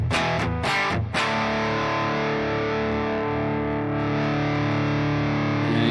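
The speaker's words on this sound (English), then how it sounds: "you can get some really wicked like fuzz tones out of it" Electric guitar played through an amp-modeling dirt setting that emulates a fuzz pedal into a clean amp, giving thick, buzzing fuzz tone; a few choppy strummed chords are followed by a long sustained ringing chord, loud and alone.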